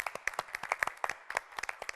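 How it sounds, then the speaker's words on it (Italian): Sparse applause from a small audience in the theatre at Osoppo, individual sharp claps clearly separated in an uneven rhythm, close and fairly quiet, with a brief pause midway. "Facciamo un applauso da qui"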